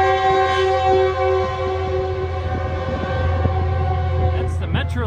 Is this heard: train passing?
yes